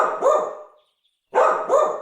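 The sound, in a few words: dog barking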